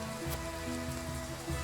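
Steady rain falls in the video game Triangle Strategy, a dense continuous hiss with faint low tonal game music beneath, evenly loud throughout the short stretch and free of speech.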